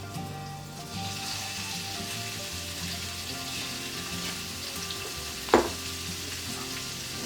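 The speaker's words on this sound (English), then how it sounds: "If you hear the sizzle, you know it's good to go." Steady, crackling sizzle of beef searing in a hot wok, continuous throughout, with one brief clatter near the end; no talking.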